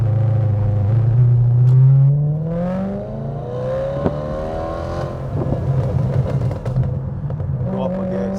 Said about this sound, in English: it produces a very beautiful visceral sound from the exhaust system